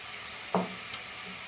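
Ginger garlic paste frying in a pan for a ridge gourd and chana dal curry, with a soft sizzle and one short stirring clatter.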